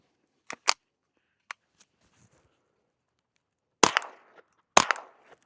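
Suppressed Ruger Charger .22 pistol firing CCI Mini Mag rounds, two sharp cracks close together, then a lone shot, then two louder shots with short decays.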